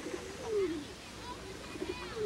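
Pigeons in a park give a few soft, throaty coos close by, and a voice can be heard faintly underneath.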